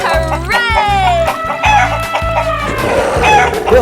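Cartoon chicken clucks and crows in a 3D animal video game, a loud series of rhythmic clucks and a crow close up, accompanied by background game music.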